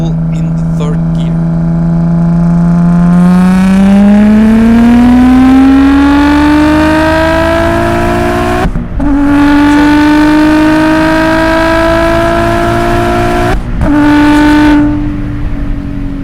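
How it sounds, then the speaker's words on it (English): A modified Audi S4 B5 pulls hard through third gear at night on the autobahn, its engine note rising steadily and loudly with two brief dips at the upshifts, close and continuous throughout. "Alright, let's go for a pull in the third gear."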